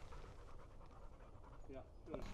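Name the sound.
dog panting near the camera tripod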